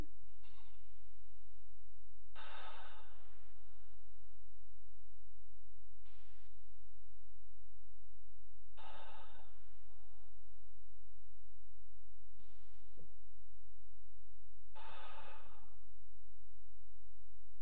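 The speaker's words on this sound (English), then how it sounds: "we're going to breathe in slowly and quietly. Okay, breathe in." Slow, deep breaths in and out repeat at a steady, unhurried pace, each a soft airy rush close by over a constant low hum.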